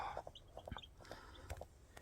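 Three newly hatched chicks beneath a brooding hen. Very faint, soft peeps and low clucks come in short, irregular bursts, quiet and close.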